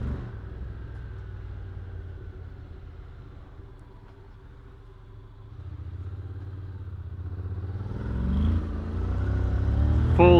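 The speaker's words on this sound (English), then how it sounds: "Yeah, sometimes you need to go off-road, so let's take it down the trail here, and by trail I just mean dirt road." A 2023 Honda NC750X DCT automatic motorcycle pulls away on a dirt road with a low, steady engine rumble that swells as it accelerates toward the end.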